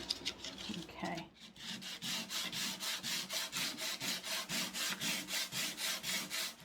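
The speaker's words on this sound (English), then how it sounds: "So I'm just going to give it an all over with a 100 grit." A vintage wooden coffer chest is hand-sanded with 100 grit sandpaper in steady, even back-and-forth strokes, a close and regular rasping rhythm after a brief bump and pause at the start.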